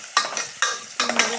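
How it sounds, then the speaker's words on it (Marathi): Onion browning in a frying pan, heard as three short bursts of scraping and stirring against light sizzle, each flaring up then fading, close and fairly quiet, with no voices. "तर कांदा चांगला लाल करायचा आहे"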